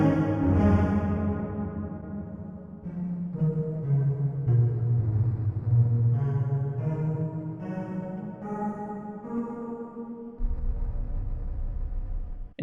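A granular effect from a Sonicware Texture Lab, pitched up another octave with the delay randomization off, gives a sustained, layered tonal drone with shifting harmonic lines and a deeper swell near the end, played alone and steady.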